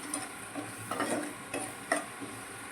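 Coriander powder and fennel seeds fry in oil for aloo paratha stuffing, a soft crackling sizzle broken by a few light spoon scrapes and taps against the pan, with no voices.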